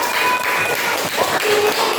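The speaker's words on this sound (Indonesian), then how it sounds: "Tepuk tangan kepada kelompok 4" A classroom full of students applauding a group, steady dense clapping that fills the room, loud and close throughout.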